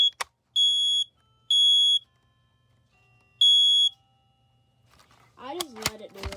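A modern household smoke alarm being tested gives three loud, high electronic beeps in a slow pattern, then goes quiet before a person speaks near the end.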